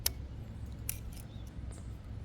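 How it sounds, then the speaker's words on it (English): Scissors or pliers snip through plastic zip ties on an e-bike pedal kit install, a few sharp close clicks spaced irregularly over a low background hum. "Then you can just cut the zip ties."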